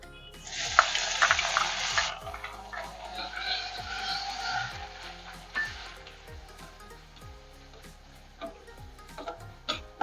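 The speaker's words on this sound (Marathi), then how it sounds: "आपण दुसऱ्या बाजूला पायनॅपल पण तुपात थोडा परतून काढणार आहोत." Pineapple pieces sautéing in a little ghee in a pan: a brief burst of sizzling near the start, then a softer crackle that fades, with scattered light ticks and clinks and no voices.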